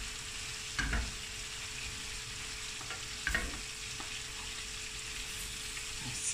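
Steak mince for a pasta bake fries in a pan with a steady close sizzle, broken by two louder scrapes of stirring.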